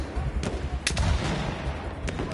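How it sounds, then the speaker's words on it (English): Artillery fires during a video game battle, a few scattered thuds and sharp reports over a rumbling background, moderately loud, with no talk. "Got some artillery firing coming in there."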